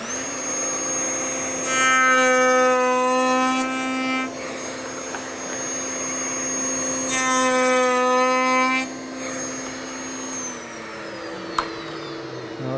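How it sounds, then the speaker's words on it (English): A router spinning a cope cutter bit hums steadily throughout, rising into two louder bursts of whining, harmonic-rich cutting as the bit makes cope cuts in wood for 1 1/8 inch muntins and mullions, then winds down near the end. "We're going to cut the cope cuts for all of our muttons and mullions right here."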